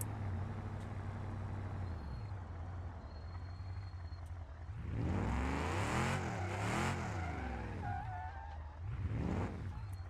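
Video game race cars roar through a sustained engine drone that rises into loud revving passes with tire noise, fading and then surging again near the end.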